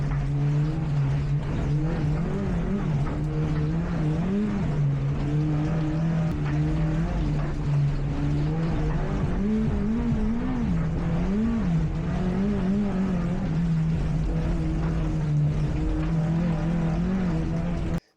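A rallycross car races at Knockhill in a BTRDA event, its engine heard close and loud for a long stretch, revving up and down through gear changes as it drives over bumpy, loose surfaces.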